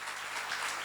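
Audience applause during a Korean church seminar, a steady wash of many hands clapping together, moderately distant and soft throughout.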